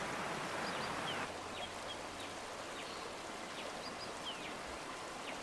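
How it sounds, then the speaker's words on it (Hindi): Stream water runs down from the Rift mountains into the valley at Lake Manyara National Park, a steady broadband rush with scattered bird chirps above it and no voices. "रिफ्ट माउंटेन्स में पानी इकट्ठा होता है और फिर बहकर घाटी में जाता है।"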